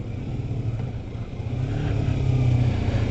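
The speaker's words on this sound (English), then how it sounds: "Engine braking right there." A motorcycle engine braking while riding, a continuous loud engine drone that swells slightly toward the end, heard alone without speech.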